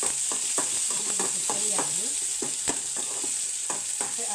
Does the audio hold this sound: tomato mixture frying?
yes